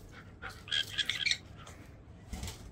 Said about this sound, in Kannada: ಸೊ ಎರಡು ಕೂಡ ಸನ್ಕಾರ್ನರ್ಗಳು ನೋಡಿ